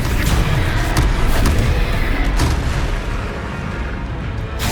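Spell blasts boom again and again in Hogwarts Legacy, with dense, loud explosive bursts layered over a constant roar of game effects and no audible talk.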